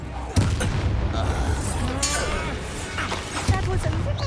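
In the video game Hogwarts Legacy, a Confringo spell bursts into a loud, booming explosion with sharp blasts and crackling debris, followed by a second impact a few seconds later, with a voice speaking around it.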